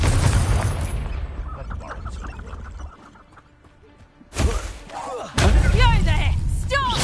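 Confringo blasting spell from a Harry Potter video game: heavy booming explosions with thuds and crackling debris, one burst at the start and louder impacts near the end, mixed with game effects and a voice.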